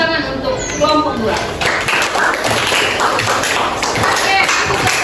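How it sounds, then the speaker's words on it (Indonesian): A classroom breaks into applause for a student group after its presentation. Dense, sustained clapping and tapping fill the room, mixed with students' voices. "tepuk tangan untuk kelompok 2"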